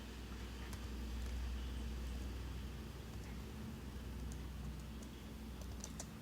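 Quiet, steady typing on a computer keyboard while writing a Java program in BlueJ, soft continuous key clatter over a low background hum, with a few sharper key taps.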